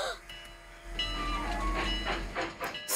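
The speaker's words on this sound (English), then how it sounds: "The train is leaving!" Cartoon train pulling away with a steady rumbling clickety-clack and faint whistle-like tones, loud and close for a few seconds with no talk.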